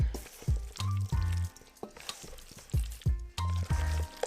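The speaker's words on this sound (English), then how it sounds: "So we're just kind of tossing it around to get everything coated." A spoon tosses potato salad in a bowl, giving soft wet squishes and light scrapes in a loose, uneven rhythm, close by and fairly quiet, with brief clinks between strokes.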